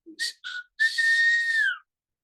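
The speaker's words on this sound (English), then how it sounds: "the last time I whistled like that" A person whistles a few short notes, then holds one long sliding tone, clear and close, with silence around it.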